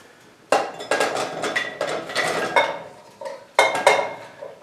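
Potato slices dropped and scooped into containers while preparing cheesy scalloped potatoes, giving a run of close clattering, clinking knocks in irregular bursts with short pauses between them.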